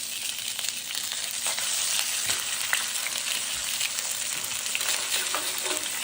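Chicken pieces seasoned with salt and pepper and turned over in a hot pan, being crisped for a braised chicken and tomato stew: a steady, close sizzle with a few brief clicks and scrapes partway through, no voices.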